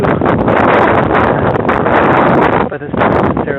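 Strong wind gusts outdoors during a parkour training session, a steady loud roar buffeting the microphone with people talking over it throughout.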